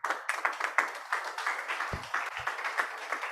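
Audience clapping for a presenter at the close of a Lagos technical and business meeting, a steady patter of many hands at moderate distance that runs the whole time without talk.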